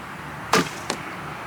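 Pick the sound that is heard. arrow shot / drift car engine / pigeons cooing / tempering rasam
arrow shot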